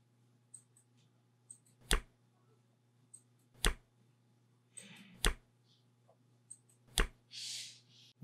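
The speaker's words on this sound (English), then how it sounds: "I just kept flicking on a card until I got the sound that I wanted." A playing card flicked with a finger, giving four sharp, isolated snaps spaced about two seconds apart, each crisp and close, with small clicks and soft rustles between them over a low steady hum.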